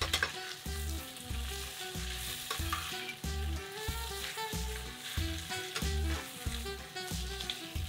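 Vegetables being stir-fried in a pan on an induction cooker sizzle loudly, with rhythmic scraping strokes of a spatula repeating about once a second, close by and with no speech.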